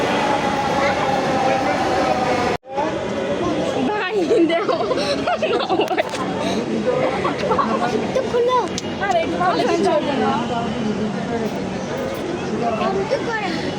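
A metro train running, its steady rumble and rattle carrying under people chatting and talking nearby throughout.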